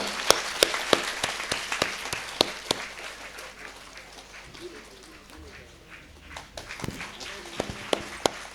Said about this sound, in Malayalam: എല്ലാവരും നല്ലൊരു കയ്യടി കൊടുക്കൂ.